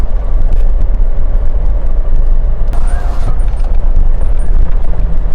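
A car driven along an empty Vrindavan parikrama road, heard as a loud, steady low rumble of engine and road noise from within, with a brief hiss partway through and no talk.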